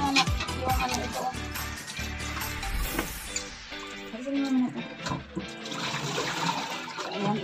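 Hot water pours off cooked spaghetti as it drains, a continuous rushing splash with hissing steam, and a voice talks over it.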